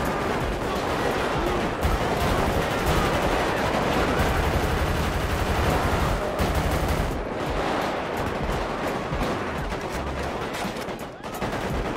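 Gunfire in the video game GTA V during a gang war, rapid dense bursts of shots crackling almost continuously and loudly, with a player's voice talking at moments.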